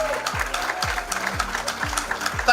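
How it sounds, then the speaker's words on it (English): A crowd in the Bahamas applauds new homeowners at a public ceremony, steady clapping mixed with repeated low, sliding tones underneath. "Give them a round of applause."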